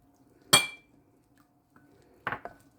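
Two sharp metallic clinks of a spoon against a pot while ginger, cloves and cinnamon are stirred, separated by a quiet pause.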